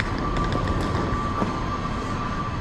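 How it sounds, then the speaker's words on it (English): A city tram rolls past on a street in Brno in foggy winter, a steady loud rumble of wheels on rail with a sustained hum, close by and filling the whole moment without speech. "The aforementioned tram just passed."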